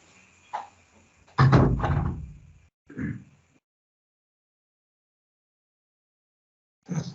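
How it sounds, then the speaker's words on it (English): A door pulled shut in a room during an online engineering lecture, giving one loud thud followed by a smaller knock, then near silence. "Let me close the door"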